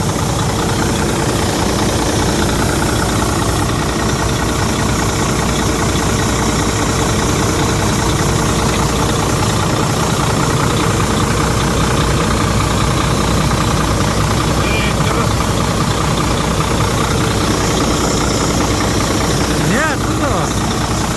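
A D13 engine idles with a knocking fault, a loud, continuous, heavy rumble with a rhythmic knock running throughout, close up, while a voice speaks briefly over it.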